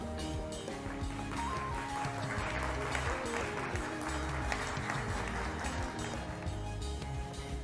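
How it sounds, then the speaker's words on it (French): Audience at an awards ceremony applauding a prizewinner, sustained clapping mixed with music and crowd noise, moderately loud and continuous throughout. "sous vos applaudissements, mesdames et messieurs."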